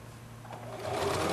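A sewing machine stitches a quilt block seam, its motor whirring steadily close by and rising slightly in speed and loudness toward the end of a short run.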